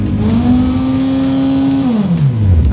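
A Westfield Megabusa car engine revs loudly and close up, holding a steady high pitch before dropping away as the throttle is released, with no talk.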